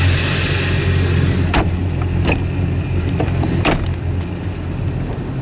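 A 2015 Yamaha 242 Limited S boat engine runs with a constant, loud mid-low drone, a few brief clicks and rattles rising over the steady hum.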